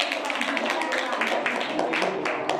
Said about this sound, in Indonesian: Tepuk tangan buat anak kita yang kedua